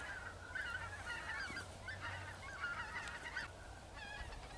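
A flock of geese honks repeatedly in the distance over a feeding field in Belarus during a goose hunt, faint calls overlapping against a low steady background.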